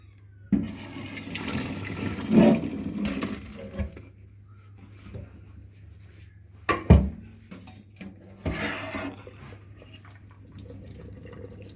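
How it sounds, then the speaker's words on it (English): Cooking water drained from a pot of boiled potatoes: bursts of splashing and pouring water with clattering pot sounds, a sharp knock midway and a final trickling pour, no speech. "our next step is to drain our potatoes"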